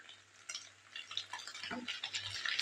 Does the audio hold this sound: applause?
no